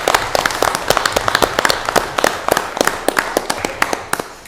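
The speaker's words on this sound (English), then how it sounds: "Can you join me in a little round of applause for Mark Bresnick?" A small group applauds at a city board of aldermen meeting, steady close clapping from a modest crowd that fades toward the end, with no talk over it.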